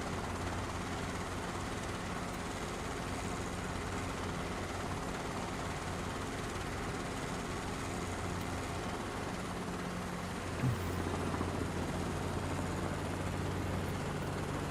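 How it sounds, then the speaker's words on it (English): A helicopter in a flight simulator game makes a steady, even rotor and engine drone that runs without a break, with a slight shift in tone about two-thirds of the way through. "I'm literally flying the same helicopter as the thumbnail"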